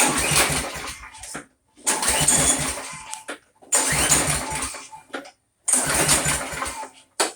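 Briggs & Stratton engine on a Craftsman lawn mower being pull-started four times without catching, each loud sputtering crank lasting over a second, separated by short silences.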